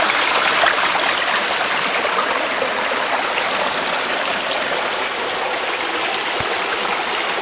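Water rushes steadily through a gold sluice in a dense, continuous close wash with no breaks.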